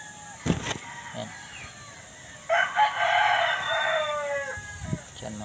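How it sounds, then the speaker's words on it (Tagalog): Rooster crowing at a game fowl farm in Silang, Cavite, one loud drawn-out crow in the middle, with short clucks and chicken calls before and after, while someone talks nearby. "ito mga sisiw na yan dyan"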